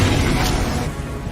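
Spells Incendio and Expelliarmus fired in Hogwarts Legacy combat, a loud, dense whooshing roar with a booming low rumble that fades slightly toward the end.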